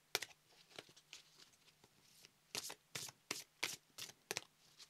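Oracle cards being shuffled by hand during a tarot-style reading, a series of crisp riffling bursts that grow louder and more regular toward the end, close up, with no talking.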